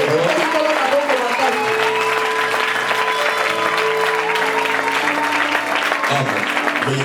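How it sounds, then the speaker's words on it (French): Congregation applauding loudly at a Congolese church worship gathering, steady sustained clapping from a large crowd filling the room, with tones underneath throughout. "On acclame très fort pour le Seigneur."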